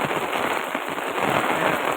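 Heavy rain pours steadily in Rajula, a dense, loud, continuous hiss of drops striking surfaces with no voices.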